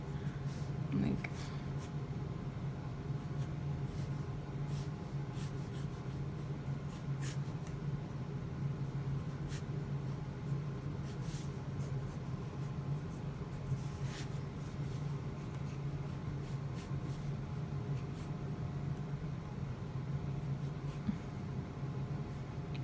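A pencil sketching clothing on paper, a steady faint scratching of graphite strokes running throughout under an ongoing hum, with a few sharper taps.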